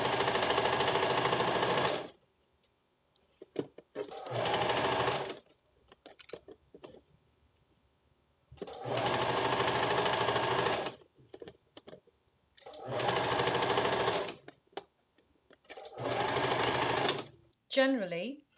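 A sewing machine stitches a blouse yoke with piping in five loud, steady bursts of about two seconds each, separated by quiet gaps with light handling clicks and rustle; a brief whirring squeal closes the sequence.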